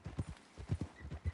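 Horse hooves clip-clop in Red Dead Redemption 2, a steady, close rhythm of hoof strikes repeating through the moment with no voices over them.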